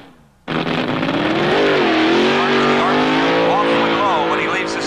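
A 1971 drag racing car launches hard from the starting line, its engine snapping from idle into a loud sustained roar that climbs in pitch as it pulls away, with a commentator talking over it.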